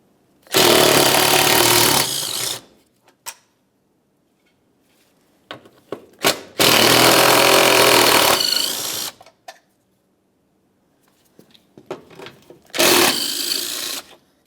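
Loud, close bursts from a power tool spinning out 10mm bolts on a 2005-2010 Dodge Dakota front bumper: three long whirring runs of a few seconds each, separated by quiet gaps with light clicks and handling.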